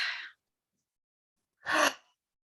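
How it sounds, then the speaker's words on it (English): A person breathes deeply, with a soft airy exhale at the start, then silence, then a fuller, louder breath close by, with no speech. "Take a deep breath."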